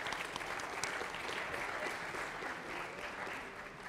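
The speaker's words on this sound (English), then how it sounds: "So let's give them a round of applause." A lecture-class audience claps for several seconds, a dense steady wash of applause at moderate distance that fades slightly toward the end.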